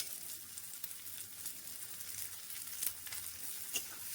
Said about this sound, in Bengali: এগুলো আমি ভালো করে এবার ভাজবো।